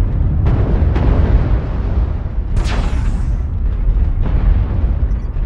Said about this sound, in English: I don't know what kind of missile they've got, but it just punched a hole in both arms and my CT